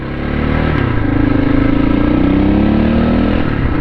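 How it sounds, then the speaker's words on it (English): A KTM 640 motorcycle engine drones steadily and loud from on board while riding, a strong vibrating single-cylinder tone with slight rises in pitch and wind rush over the top. "On board the KTM 640. This is a fun bike."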